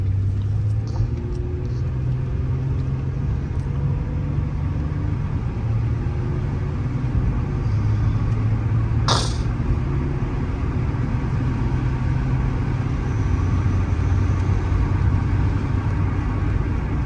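A Ford Taurus sedan drives around the block, heard from inside as a steady low engine and road rumble with shifting tones and a brief sharp click partway through, with no voices.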